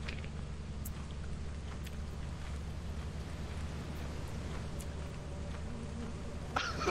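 A steady, low buzzing drone of bees in a video game hums throughout, with a few faint clicks and a soft thump near the end.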